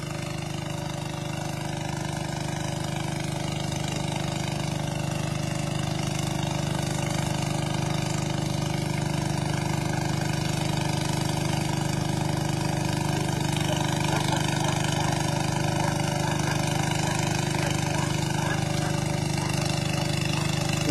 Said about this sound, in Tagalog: may water pump doon